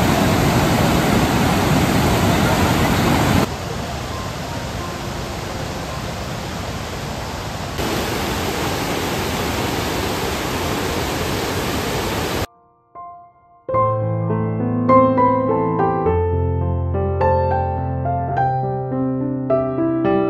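Fukiware Falls in Numata, Gunma, Japan roars as a steady, loud, close rush of falling water for about twelve seconds, then breaks off into music.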